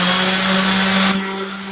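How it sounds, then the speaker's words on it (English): An electric power sander fitted with 80 grit paper rounds over the edge of a shower curb, giving a loud, steady whine and grind that drops to a lighter hum near the end. "If you notice, I'm rolling the sander from here just about up flat at the top."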